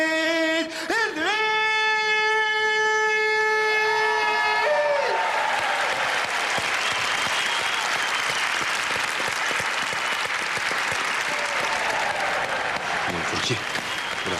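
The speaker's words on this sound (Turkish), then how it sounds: "Millet nezaketen alkışlıyor işte." Audience applause at a televised talent show swells in after a sustained musical tone fades, then continues as a loud, dense, even wash of clapping for over ten seconds, with some crowd noise mixed in.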